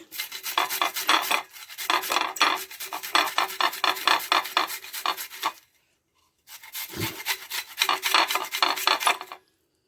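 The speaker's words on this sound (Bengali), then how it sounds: "এই উচ্ছেটা গ্রেট করে নিতে হবে।" A bitter gourd (karela) is grated by hand in a home kitchen, making steady rhythmic rasping strokes close by. Two long runs of scraping are separated by a brief pause, with no talking.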